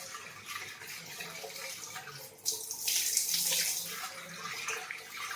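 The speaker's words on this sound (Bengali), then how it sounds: "সব সবজিগুলো আমি একটু ভালো করে ধুয়ে নিই।" Vegetables such as capsicum and carrot being rinsed under a running tap in a home kitchen, a steady hiss of flowing water that swells louder partway through, with no talking.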